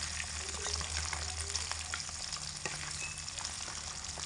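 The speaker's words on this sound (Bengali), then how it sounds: "ইলিশ মাছ কিন্তু একটু নরম করেই ভাজতে হয়" Hilsa fish pieces fry gently in a pan with a steady, quiet sizzle and crackle throughout, no voices.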